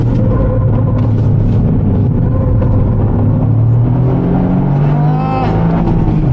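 Toyota GR Yaris Sebastien Ogier Limited Edition engine rumbles steadily from the cabin while driving, with the revs climbing toward the end.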